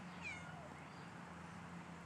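One faint, short meow from a cat at a distance, over a low steady background hum, with no speech.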